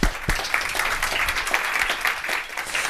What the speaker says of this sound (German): Schon ein Applaus, bevor es losgeht.